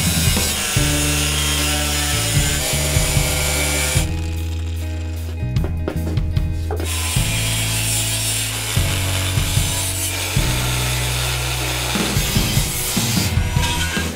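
A shape is cut out of a metal plate in a metalworking shop, producing a loud, continuous rasping saw-like grind up close that pauses briefly partway through and then resumes. No one speaks.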